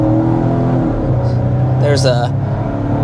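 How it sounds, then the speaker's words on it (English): A 2024 Volvo V60 Cross Country with an 8-speed automatic accelerates from a rolling start, a steady loud engine drone rising in pitch under close cabin talk, with a brief shift in tone partway through. "rolling start right there, and that really exemplifies the 8-speed automatic transmission that we have on board with this V60"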